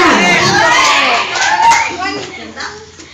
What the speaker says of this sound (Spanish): vamos a ganar conforme nuestro público vaya aplaudiendo